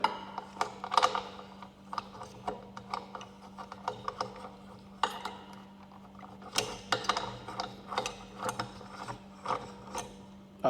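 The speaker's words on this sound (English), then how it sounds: "So this, I will screw it here." A Maono microphone holder is screwed onto its mount, giving close, repeated plastic and metal ratcheting clicks and scrapes in irregular bursts over a steady low hum, with no talking.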